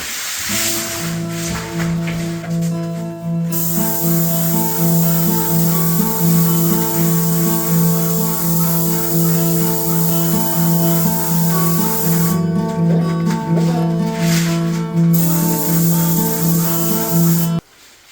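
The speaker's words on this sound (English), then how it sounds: "Alright, I'm going to spray these doors next." A paint sprayer spraying trim hisses loudly and steadily for a long stretch with a droning motor tone underneath, cutting off briefly before resuming.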